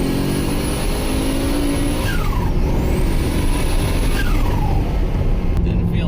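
A turbocharged LS-swapped Miata engine with a blown-up engine history revs loud and close, sustained roaring with two rising-and-falling sweeps over about six seconds.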